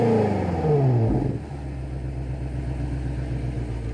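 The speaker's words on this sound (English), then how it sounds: "I'm gonna have my camera guy Ian start the engine and let you hear it with my mic." A 2020 BMW X5M Competition's engine revs loudly up toward 4,000 RPM over the first second, with rising harmonics, then drops back to a steady, rumbling idle for the rest.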